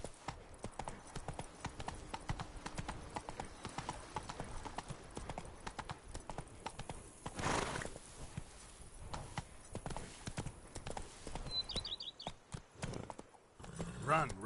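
Roach, Geralt's horse in The Witcher 3, gallops with rapid, close hoofbeats in a driving clip-clop rhythm, a brief whinny near the end, and a voice speaking over the running.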